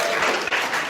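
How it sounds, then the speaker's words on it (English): A convention audience breaks into dense, loud applause, a brief continuous wash of clapping heard up close. "Let's give those guys a round of applause."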